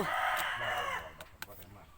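A rooster crows loudly and close by among farm chickens, one long call followed by a few short clucks and sharp clicks as it fades.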